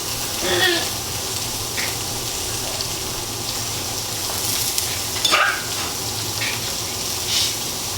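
Sliced bok choy and carrots stir frying in a hot pan give a steady, close sizzle with occasional brighter spits and the scrape of stirring, and no talk over it.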